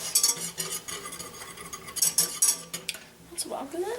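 Ingredients being mixed in a bowl with a utensil, making sharp clinking and scraping knocks in quick irregular strokes that are close and fairly loud, with a brief slide of sound near the end.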